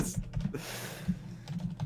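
Fingers tap quickly on a computer keyboard, an uneven run of light clicks and clacks close by, with no voices.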